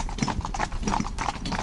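Horse hooves clip-clopping as the horse carefully walks the edges of a world championship course among other horses, a steady run of distinct thuds at a walking rhythm, close and clear, with faint voices in the background.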